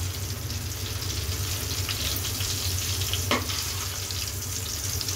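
Eggs frying in bubbling hot oil, a steady, close sizzle running evenly throughout with a faint brief clink partway, no voices.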